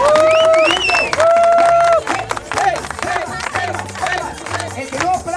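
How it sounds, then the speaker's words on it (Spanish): A crowd at a lively dance event claps and cheers loudly, mixed with music, whistles and shouting voices throughout. "para que la gente aplauda y grite acá"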